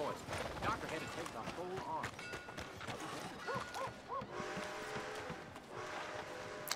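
Horse hooves in Red Dead Redemption 2, a steady clip-clop of a horse moving over ground, fairly soft and mixed with other game sounds.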